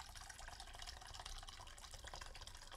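Warm water poured from a flask into a bowl, a steady broadband splashing and trickling that runs continuously and fairly close for the whole few seconds, with no talking over it.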